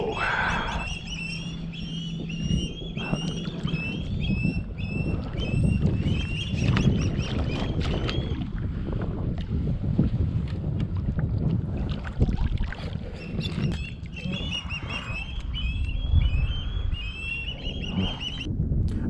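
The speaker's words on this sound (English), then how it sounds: "now I'm using the trolling motor to create the perfect drift" An electric trolling motor slowly drifts a fishing boat into the wind while redfishing. A steady, close wash of motor and water runs throughout, and geese honk repeatedly nearby.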